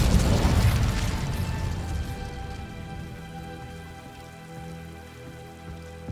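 The Incendio fire spell is cast in a Harry Potter video game, bursting out as a loud crackling whoosh that fades into a softer fizzing, rumbling tail over several seconds.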